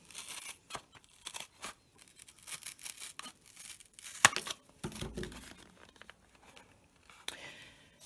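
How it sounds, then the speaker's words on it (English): Scissors trimming the top off a paper milk carton, heard as faint, scattered snips and crinkly paper rustles, with a louder tearing crunch midway and quieter handling noises before and after. "So the next thing I'm going to do is trim off the top of this milk carton."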